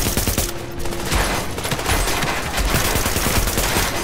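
A distant NPC battle in The Division crackles with overlapping gunfire bursts against a dense wash of combat music and ambience, steady and moderately loud throughout.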